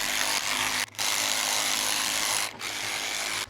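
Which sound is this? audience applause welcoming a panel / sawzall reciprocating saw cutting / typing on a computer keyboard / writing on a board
sawzall reciprocating saw cutting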